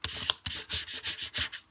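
Firm scraping strokes pressing vinyl down onto a curved surface, about seven quick rubbing swipes in a steady rhythm, close and distinct over a brief moment.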